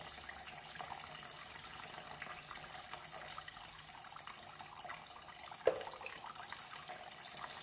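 Hot water runs steadily from a tap during a hair wash at home, a soft continuous splashing hiss with one brief knock near the end.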